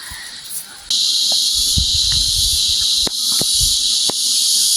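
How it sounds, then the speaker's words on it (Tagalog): Noisy insects drone with a loud, steady high-pitched buzzing on a coconut farm in hot weather, kicking in after a moment and continuing under scattered rustles and faint handling sounds. "Ang ingay-ingay na naman ng insekto."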